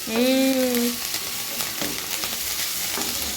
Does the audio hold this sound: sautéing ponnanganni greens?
yes